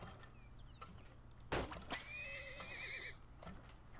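A horse neighs once in the video game Turmoil, a high whinny after a sharp knock, over quiet background hum; it has a somewhat synthetic, game-like quality.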